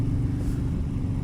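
A motorcycle rumbles steadily while being ridden, a continuous low engine drone with wind, close and fairly loud, no voices.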